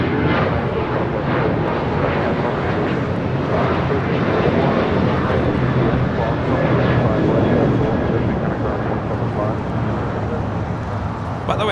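An airliner taking off from runway 25 Left at LAX, a loud, steady roar of jet engines that fills the whole stretch, with a voice talking over it.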